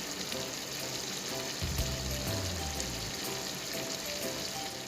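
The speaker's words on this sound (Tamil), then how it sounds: "இப்போது அடித்து வைத்திருக்கின்ற முட்டையை சேர்த்திருக்கின்றேன்." Beaten egg cooks in a pan for chicken palaandi, giving a dense, even hiss of frying that holds steady and fairly loud throughout, with no voices.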